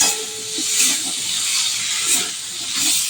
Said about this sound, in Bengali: এখানে আলু, পেঁয়াজ, আদা রসুন বাটা দিয়ে মশলাটা কষিয়ে নিচ্ছি।